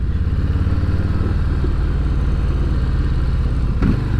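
A 2019 Harley-Davidson Low Rider with a 107 cubic inch V-twin engine rumbles steadily and loudly up close, a deep continuous throbbing idle with a small clatter near the end and no voices.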